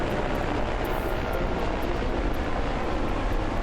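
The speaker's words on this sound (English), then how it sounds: "Police helicopter Eagle arrives to search from the air." Police helicopter Eagle arrives overhead during a search near coastal water for missing fishermen, its rotor and engine a loud, constant broadband roar that fills the whole moment without pause.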